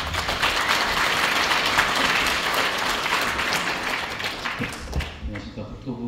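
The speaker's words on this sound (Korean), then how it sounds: "박수 부탁드립니다" Sustained audience applause at a government presentation on integrated development around Ori Station, dense steady clapping from a crowd that fades toward the end.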